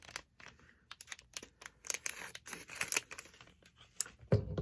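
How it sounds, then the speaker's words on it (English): Dollar-store scissors snip and slice open a small mystery package, giving a run of close, crisp cuts and crinkly plastic rustles, ending in a louder snip. "I am back with my magical trusty scissors that I also bought at the dollar store."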